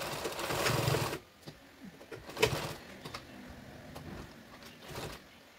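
A sewing machine stitches a belt strip onto a homemade cloth bag, one short loud run of stitching at the start, then a quieter stretch with faint bird coos in the background.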